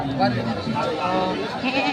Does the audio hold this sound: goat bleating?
yes